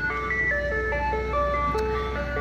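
Ice cream truck jingle playing a bright, repeating melody of stepped tones over a steady vehicle hum, loud and continuous with no talk.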